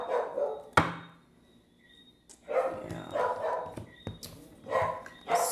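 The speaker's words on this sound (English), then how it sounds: "my dogs just do not stop barking" Several dogs bark in loud, sharp bursts, a cluster near the start and repeated volleys later, close to the listener indoors with brief quiet gaps between.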